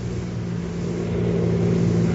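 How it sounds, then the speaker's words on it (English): A car heading toward a mausoleum at night, a low engine rumble that grows gradually louder as it nears, with no voices. "Sounds like a car heading this way."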